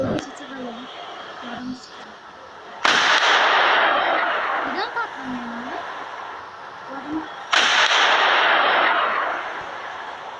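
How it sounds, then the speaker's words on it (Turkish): Two loud, booming explosions in the video game GTA go off a few seconds apart, each with a long rumbling decay, over a continuous noisy roar and a voice. "güzel patlamaydı"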